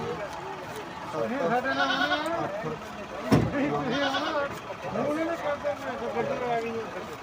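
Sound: goat bleating at a livestock market

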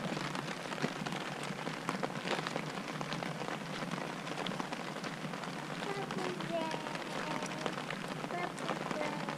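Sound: rain falling

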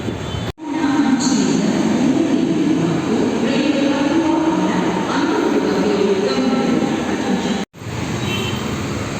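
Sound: metro train ride

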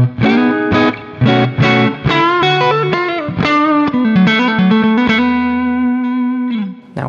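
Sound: electric guitar through amp sim with compressor on

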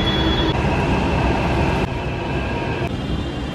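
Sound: Delhi metro train arriving at station

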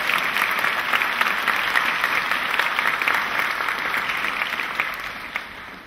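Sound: audience applause at a beauty pageant

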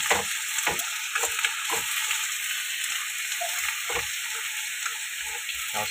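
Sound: stir-frying pork offal with garlic

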